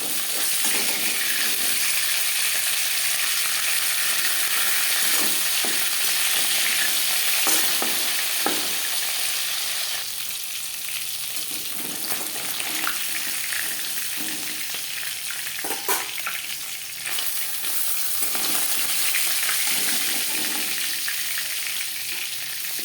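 Hilsa fish frying in a pan, a loud continuous close sizzle with occasional scrapes and clinks of turning, steady throughout without talk.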